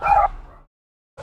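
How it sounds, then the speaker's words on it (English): A dog in a home setting gives a loud, sharp bark-like yelp up close, a brief burst that trails off into quiet, then a second short burst begins at the end. "I'm pissing the dog off."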